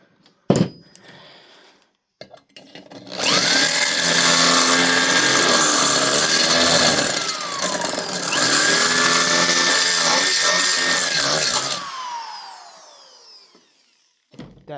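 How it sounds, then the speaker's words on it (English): A power drill bores a new hole through a mounting bracket in a workshop, whining steadily through two long passes with a brief pause between, winding down with falling pitch at the end. "Finish drilling the new hole on this side before I do anything else."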